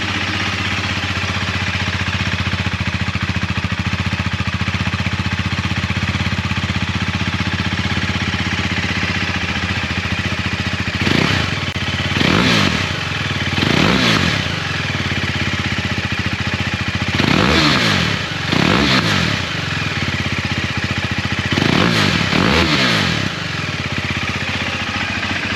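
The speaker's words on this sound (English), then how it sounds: "we'll give it some revs. Just get a little sound check." A 2020 KTM RC390 with an Austin Racing slip-on exhaust idles steadily and loudly, then gets several sharp revs in pairs, each rising and dropping quickly, with no talking.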